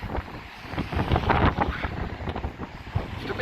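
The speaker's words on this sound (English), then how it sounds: "Oh, that wind just got up then." Gusty wind at Blackpool's North Prom on a day of snow and rain, buffeting the microphone in loud, rumbling surges with a broad rushing roar and no talk.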